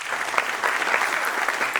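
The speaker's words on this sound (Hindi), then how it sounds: "तो एक बार इनके लिए तालियां।" An audience gives Anand Kumar a burst of applause, dense steady clapping that fills the whole short stretch, close and fairly loud, with no talk over it.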